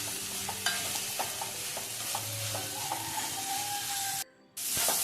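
Sliced onion frying with crushed ginger and garlic makes a continuous close hiss and sizzle with light stirring clatter, then cuts out for a brief moment before resuming.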